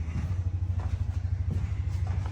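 A tractor engine idles with a low, steady, rapidly pulsing thrum, moderately near and fairly quiet, running alone without talk.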